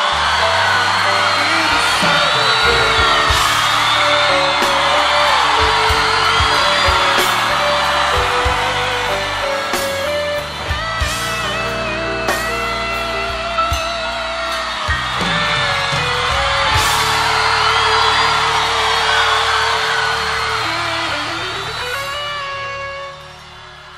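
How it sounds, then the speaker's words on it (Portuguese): At a live Brazilian gospel concert, a loud audience shouts and whoops along with the singer over sustained music and band accompaniment, continuous and full throughout. "todo mundo gritando assim comigo"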